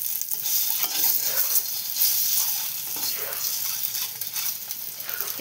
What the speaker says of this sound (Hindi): अंडा के भाजी देबा लाल करी।